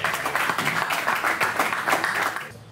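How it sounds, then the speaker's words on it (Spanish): A live podcast audience applauds for El Marchante, a short, dense burst of clapping that holds steady before dropping off. "un fuerte aplauso para El Marchante"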